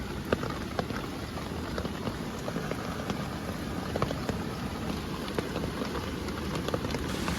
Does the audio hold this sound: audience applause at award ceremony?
no